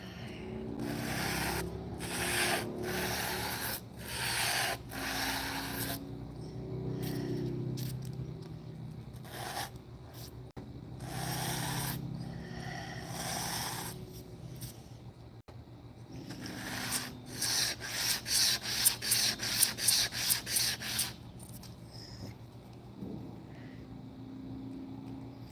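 A part is sanded by hand with sandpaper while a mechanism is being redesigned. Close, rhythmic rubbing strokes come in bursts, with a quicker run of short strokes late in the clip and no talking.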